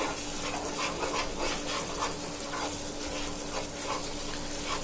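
Spices frying in oil in a pan for a coral fish tomato curry, a steady, moderately quiet sizzle with a faint ongoing hum, no voices.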